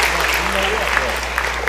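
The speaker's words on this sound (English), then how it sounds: "Please give Ms. Banyard a round of applause" A crowd applauding on the Mississippi House floor, dense steady clapping throughout with faint voices mixed in.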